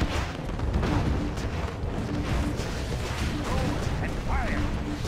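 Missile launches in a Command & Conquer Red Alert 2 mod battle, heard as a steady rumbling barrage of booms and blasts under repeated unit voice lines.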